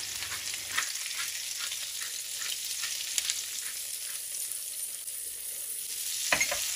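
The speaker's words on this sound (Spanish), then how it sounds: "Y lo vamos a mover pues para que se nos vaya sofriendo todo junto" Vegetables seasoned with salt and pepper sizzle in a frying pan while being stirred, a continuous close hiss with soft scraping strokes and a brief clatter near the end, no voices.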